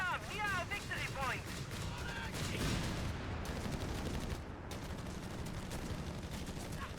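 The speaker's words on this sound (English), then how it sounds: "Machine gun trying to drive away these pioneers." Rapid machine gun bursts and scattered gunfire in the Company of Heroes 3 strategy game, a dense, continuous battle soundscape with voices speaking over the firing.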